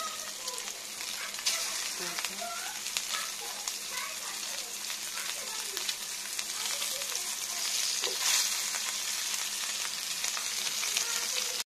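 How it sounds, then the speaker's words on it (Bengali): Fish koftas frying in oil crackle and sizzle steadily up close, with scattered pops and occasional stirring, and faint voices underneath now and then. "এই যে কোপ্তাটা কি সুন্দর ভেজে নিয়েছি"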